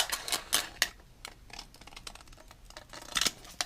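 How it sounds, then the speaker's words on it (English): Scissors carefully snip a thin strip from a flat piece, making a few crisp, close cuts in small clusters separated by quiet pauses. "very carefully and slowly cut a strip"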